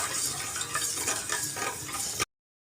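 Sugar syrup with ground cardamom is stirred for jalebi while the sugar dissolves, giving a continuous close scraping swish with a soft bubbling hiss underneath, cut off abruptly after about two seconds.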